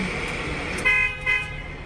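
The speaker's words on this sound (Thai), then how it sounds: "เสียงแตรบีบไล่ดังพร้อมกับชะลอความเร็วของรถ" Two short car horn honks from a slowing car sound over a steady traffic hum in a Thai audio drama, fairly close and moderately loud.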